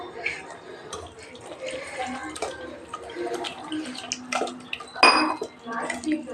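Plain water poured into freshly cooked ragi koozh (finger millet porridge) in a home kitchen: a near splashing and trickling wash over a busy background, with a sharper burst of pouring about two thirds of the way through.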